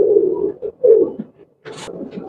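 Golden Kasuri pigeons coo at a busy pigeon market, a few soft, throaty bursts close by, followed by faint background chatter and a brief higher chirp.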